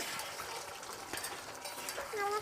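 Chicken curry bubbling in a pot, stirred with scraping and clinking of a spoon against the metal over a steady simmering hiss, quiet and close.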